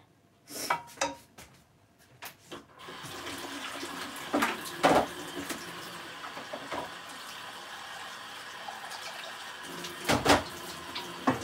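Tap water runs steadily into a pot to soak burnt rice stuck to its bottom after cooking biko at home, with clinks of dishes and a few louder splashes along the way.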